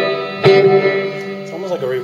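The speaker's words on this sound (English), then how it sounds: "It's almost like a reverse reverb," A Line 6 Spyder II 15-watt amp's reverse reverb effect on an electric guitar chord swelling in with a washy, reversed-sounding tail, sustained and close, with a second note bending in near the end.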